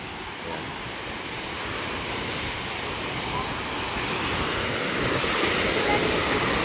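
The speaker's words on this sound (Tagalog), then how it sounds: "Medyo may alon, kaya hindi sila basta makatabi." Sea waves wash steadily at a fishing boat landing at a fish terminal, a broad continuous surf rush with wind noise, growing slightly louder, with faint voices in the background.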